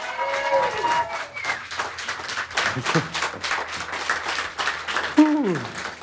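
Applause from the audience for barista Artur Kosteniuk at the World Barista Championship 2025 final, a moderately loud, uneven wash of clapping with crowd noise and a brief tonal sweep near the end.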